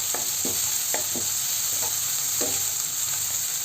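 Onions and shallots sautéing in oil with turmeric stirred in, for a spinach and dal thoran: a steady sizzle with periodic scraping stir strokes throughout.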